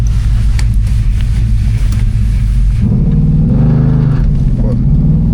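A deep engine idles loudly nearby, then revs up with a rising, throaty roar before settling, heard without any talking.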